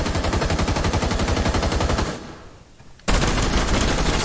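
Rapid automatic gunfire in a video game roars loudly, then drops into a brief lull before a sudden second burst of dense, continuous fire.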